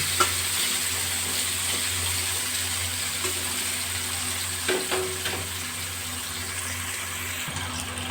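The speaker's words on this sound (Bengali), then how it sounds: "উচ্ছেগুলো ভালো করে ভেজে নেব" Bitter gourd slices fry in a pan on a low gas flame, a steady close sizzle broken by a few scraping, clattering stirs, with no talking.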